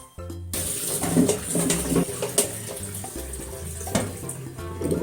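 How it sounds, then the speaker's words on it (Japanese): Tap water runs steadily over green ume plums being rinsed, with splashing and small knocks as the fruit is handled under the stream, close and moderately loud. "梅はちょっと水洗いしますね"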